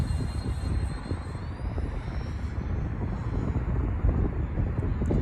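A Freewing SU-35 model jet flies in high wind, its steady engine whine running throughout under heavy low wind rumble and buffeting, a faint rising tone sweeping past midway.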